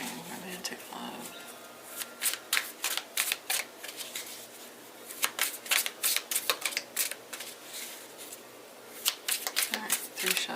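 Tarot cards are shuffled in close, quiet bursts, a series of crisp riffling flutters repeating in an irregular rhythm with short pauses between shuffles.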